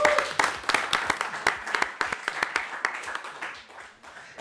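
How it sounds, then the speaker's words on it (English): Audience applause at a live mental health talk event, with sharp individual claps standing out in a loose, uneven rhythm that thins and fades toward the end. "So can we have a big round of applause,"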